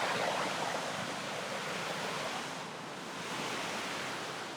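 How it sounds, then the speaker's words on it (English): A river of glacier snowmelt on Mount Baker rushes down the mountainside, a loud, continuous roar of flowing water filling the scene from start to finish. "I don't even know if you can hear my voice through the sound of the river."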